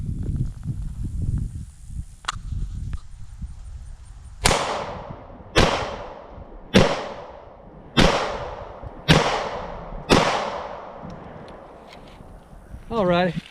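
Springfield Hellcat pistol firing six sharp, loud shots at a steady pace about a second apart, each with a short ringing tail, after some quieter shuffling.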